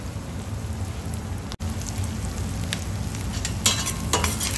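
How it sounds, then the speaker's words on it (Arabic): Onions and garlic frying in butter for butter chicken, a steady close sizzle with crackles and a few stirring scrapes, no voices. "دلوقتي اهو البصل والثوم عندي بيتحمروا"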